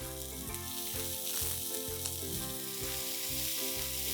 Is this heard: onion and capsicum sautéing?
yes